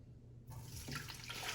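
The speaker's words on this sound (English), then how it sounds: "pour it through the strainer" Stock is poured through a strainer in a kitchen, a faint liquid pouring and splashing starting abruptly and continuing steadily, without talk.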